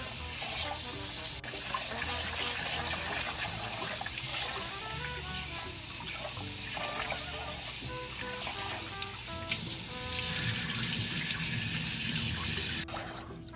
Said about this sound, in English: make sure you rinse the rice thoroughly